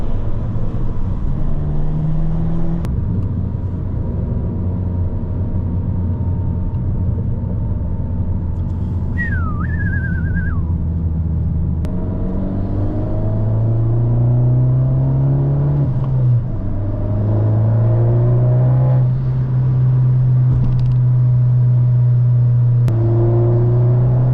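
Interior view of an Abarth 595 being driven, with a loud, steady engine and exhaust drone that rises and falls as the car accelerates and shifts through gears, plus a brief whistling turbo-like tone partway through.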